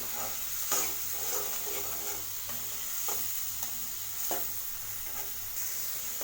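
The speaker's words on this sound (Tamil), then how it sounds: "இது நல்லா எண்ணெயில் நல்லா வதங்கணும்." Onions sautéing in hot oil for coconut rice with chicken gravy, a steady soft sizzle broken by repeated scrapes and clinks of a spoon stirring the pan, close and alone with no voices.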